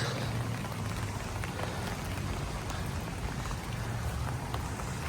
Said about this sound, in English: as you can hear, this rain is starting to come down.